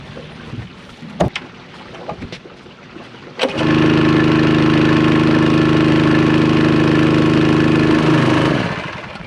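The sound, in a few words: water pump motor starting and running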